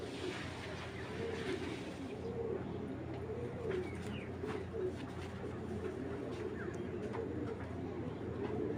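Racing pigeons cooing in a loft, soft repeated low coos over a steady background hum, with faint chirps scattered throughout and no clear speech.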